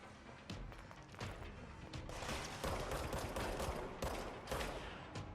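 Dense gunfire from several weapons fills a firefight in the game Control while the player takes cover, with sharp shots and crashes layered over a steady roar of automatic fire.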